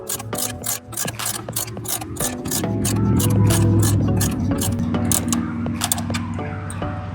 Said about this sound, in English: As I crank it down, it's getting wider.